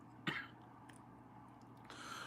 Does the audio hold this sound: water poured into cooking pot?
no